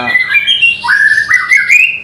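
A songbird calls loudly and close by, a run of sharp, whistled chirps and squawky warbles sliding up and down in pitch.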